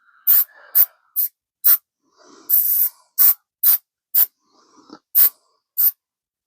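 Cleaner spray hisses onto disassembled Beretta 92FS pistol parts in about nine short, crisp bursts at close range, with faint handling and scraping between them.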